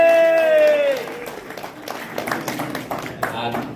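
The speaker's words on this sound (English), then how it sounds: "Big applause for our Deputy Mayor, first Muslim Deputy Mayor." Applause from an audience at a cultural evening event for the Deputy Mayor: a sustained tone fades, then scattered, moderately loud clapping with some crowd noise continues steadily.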